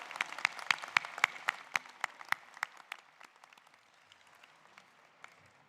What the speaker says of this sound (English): can we applaud again, one more time, for all of those people who have helped you along the way